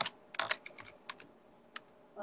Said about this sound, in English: our secretary here, Steve, as he keeps typing away for next week's theme